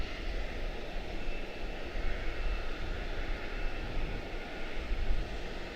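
Departing Etihad airliner climbing away from the field, a steady, fairly faint broadband engine roar that holds level throughout with no one talking.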